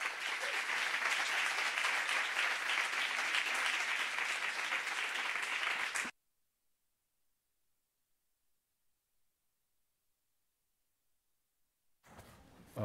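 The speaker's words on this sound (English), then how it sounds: "I invite you to give a warm welcome with an applause to Lev Manovich" An audience applauds warmly for several seconds at a masters' talk, a dense, even wash of clapping that stops abruptly, leaving near silence before a faint rustle at the end.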